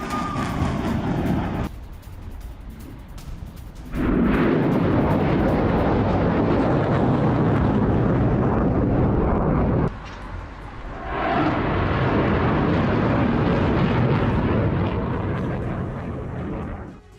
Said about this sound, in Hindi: लंबी दूरी के अयाश 250 रॉकेट से यह हमला किया गया